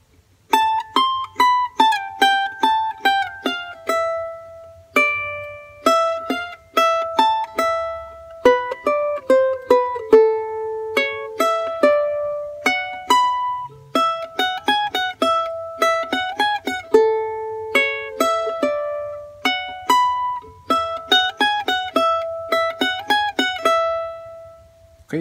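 Bright plucked charango strings play a lively strummed and picked melody phrase from Alma Llanera, notes ringing in quick clusters with short pauses, close and clear with no voices.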